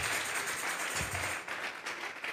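A short burst of applause from a church congregation during a service, dense and steady, fading slightly toward the end.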